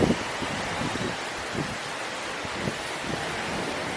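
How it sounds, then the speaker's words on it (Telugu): Strong wind blowing outdoors where gulab jamun are being made, a loud continuous rushing roar buffeting the microphone with faint rustling, no voices. "ఫుల్గా గాలి వస్తుందండి"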